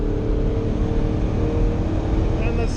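A Ferrari Testarossa engine roars loudly and steadily from inside the car, a dense, throaty drone that barely changes level over a few seconds.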